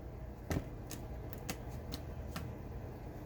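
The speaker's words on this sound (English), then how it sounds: "I let them shuffle the deck" A deck of cards is shuffled by hand at close range, giving a handful of quick, crisp riffling bursts separated by short pauses over a faint room hiss.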